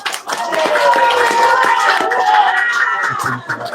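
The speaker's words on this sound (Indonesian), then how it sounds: "tepuk tangan buat Aliansi Rakyat Menggugat" An audience claps for the Aliansi Rakyat Menggugat group at a public gathering. The clapping is dense and loud and runs throughout, mixed with raised voices and cheering.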